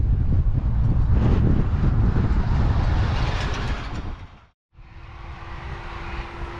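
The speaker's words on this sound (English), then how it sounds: "Very, very windy." Strong wind roars across the microphone on a Colorado mountain pass at the edge of a big thunderstorm, a loud continuous buffeting that briefly drops out and then resumes at a lower level.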